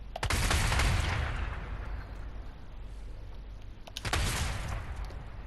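Ranged weapon fire from DmC: Devil May Cry, heard as two loud bursts of rapid shots, one at the start and one near the four-second mark, each fading into a noisy decay.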